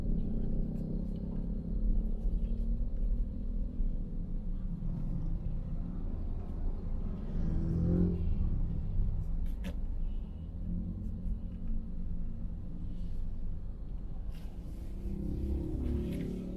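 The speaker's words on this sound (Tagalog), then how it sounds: "So kita naman po natin yung build up ng traffic, no? Diyan sa intersection na ito." Morning traffic building up at a road intersection in Cavite near the Daang Hari extension, a steady low rumble of cars and engines throughout, fairly close and continuous with no talking.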